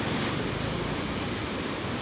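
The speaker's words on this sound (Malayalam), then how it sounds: "ചെറിയ തരത്തിൽ ഒരു വെള്ളച്ചാട്ടം" A small waterfall rushes steadily, a dense broadband roar of flowing water that stays constant and fairly loud throughout, with no voices over it.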